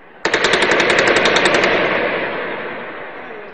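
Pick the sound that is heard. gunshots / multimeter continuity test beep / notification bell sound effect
gunshots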